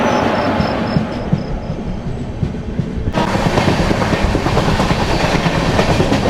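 A Visakha Express train overtakes at speed, heard as a loud, steady roar of rolling wheels with rhythmic clickety-clack. The noise intensifies sharply about halfway through and stays close and dense to the end.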